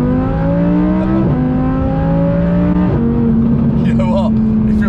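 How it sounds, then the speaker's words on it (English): An Audi R8 with a 600 bhp build revs hard through a second-gear pull, its engine note climbing in steps with gear-like shifts, loud and close from inside the car, with voices underneath. "Maybe I'll do a second gear pull."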